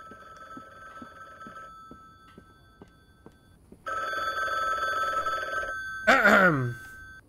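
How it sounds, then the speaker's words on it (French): An old-style telephone bell rings in the video game The Bookwalker: Thief of Tales. Bursts of ringing come between soft footsteps, then a long loud ring, and a voice speaks over the end. "le téléphone il sonne déjà"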